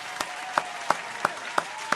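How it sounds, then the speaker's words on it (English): A round of applause on a talk show, heard as about six slow, evenly spaced claps over a soft, steady background hiss. "They definitely get a round of applause."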